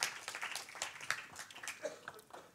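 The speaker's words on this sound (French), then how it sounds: "on peut applaudir pour l'encourager" An audience claps to encourage a young performer on a Paris stage, with a steady patter of hands that is fairly faint and distant, alone without talk.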